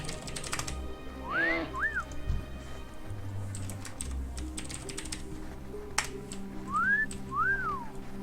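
Short two-note rising-and-falling whistle calls in World of Warcraft, heard twice, over a steady low ambient hum with faint clicking like keyboard typing.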